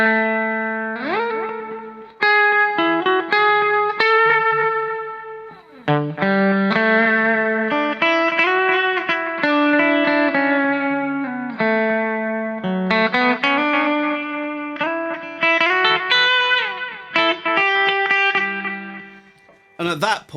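An electric guitar runs through a cheap delay pedal set with feedback and echo near eleven o'clock, giving about two repeats. Clear sustained notes and chords each trail into short echoes, played continuously and fairly loud.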